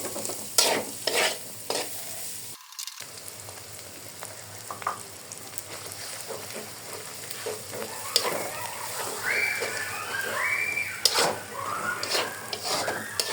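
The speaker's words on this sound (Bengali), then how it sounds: "এখন আমি এটাকে একটু ভালো করে ভেজে নিব। এই তেলের ভিতর ভেজে নিব" Mixed vegetables and egg fry in a little oil in a home kitchen, giving a continuous sizzle with repeated scraping and clattering stirs of a spatula against the pan and occasional higher squeaks.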